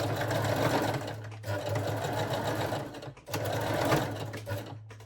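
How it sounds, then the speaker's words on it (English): A sewing machine runs a straight stitch along the crotch seam of a fully reversible bikini bottom, humming steadily and close with a low motor drone, dropping out briefly twice before resuming. "Now use a straight stitch to sew the crotch seam on the side B"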